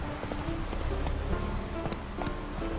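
Roach the horse gallops in The Witcher 3, a steady clip-clop of hooves under dense game sound and background noise, continuous and moderately loud throughout.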